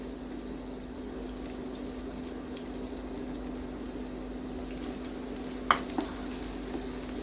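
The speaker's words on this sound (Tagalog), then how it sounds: "Let's fry for a few seconds. After a few seconds, let's add frying our green beans." Green beans frying in a pan, a steady low sizzle with a constant hum beneath it and a couple of brief clinks near the end, fairly quiet, with no talking.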